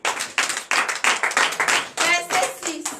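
Congregation at a night deliverance church service in Bénin clapping in a steady rhythm of about ten sharp beats, close and loud, with a voice calling out briefly near the end.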